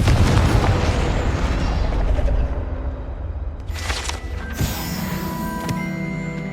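A Confringo fire spell explodes in the video game Hogwarts Legacy, a loud blast followed by crackling, bursting debris and a ringing magical tail.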